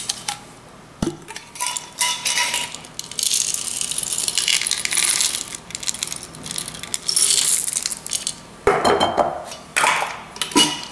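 Chocolate chips tumble into a bowl of banana oatmeal cookie dough, a clattering, rattling pour of small hard pieces against the bowl that runs on for several seconds with brief pauses.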